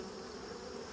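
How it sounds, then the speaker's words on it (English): Honey bees swept off a hive frame fill the air with a dense, steady buzzing swarm, close and continuous throughout, with no voices. "he's basically sweeping off the bees, and I'm going to try the same"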